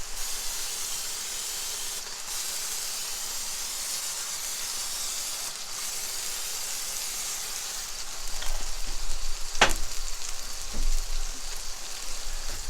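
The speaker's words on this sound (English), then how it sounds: "put some spray on them." Cooking spray hissing onto a hot Blackstone griddle for breakfast buns, a steady sizzle throughout that swells louder toward the end, broken by one sharp clank.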